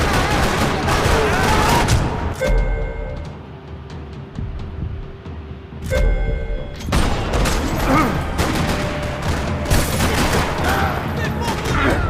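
Rapid gunfire in the video game Max Payne, loud and dense bursts of shots with booming impacts, easing briefly in the middle before heavy firing resumes, under a continuous game soundscape.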